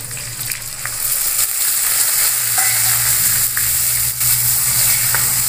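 Onion and garlic paste frying in hot oil for a soybean curry, a loud continuous close-up sizzle and hiss with a few light stirring scrapes against the pan.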